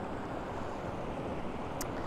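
River water flows at Sligachan on the Isle of Skye, heard as a steady, broad rushing wash, moderately loud and continuous, with some wind buffeting the microphone.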